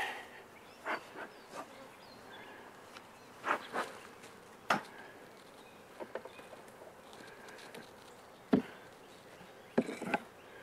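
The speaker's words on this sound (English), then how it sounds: "As you can see, there's still quite a few bees in this box." Honeybees buzz faintly around a hive box left after a swarm, a low steady hum broken by scattered sharp knocks and clicks from handling the box, with no voices.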